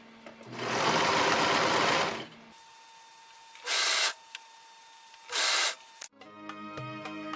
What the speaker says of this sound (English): because I have a serger, I'm going to serge along these edges